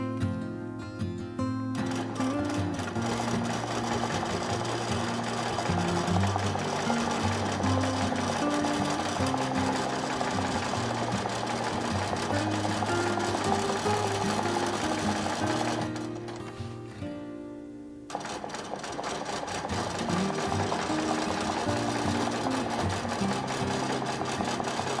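A sewing machine stitching a zig zag grid section runs steadily and loudly at an even pace, pausing briefly partway before resuming the same humming, rattling whir.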